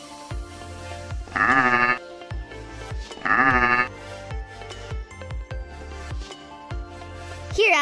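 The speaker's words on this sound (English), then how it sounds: "Oh, look at this pretty little goat." A goat bleats twice in wavering calls, close by, between intermittent low thumps and background noise.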